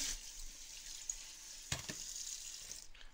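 Tap water runs steadily into a kitchen sink while a leek is rinsed for a veggie quiche, a soft continuous splash with a couple of sharper knocks near the end.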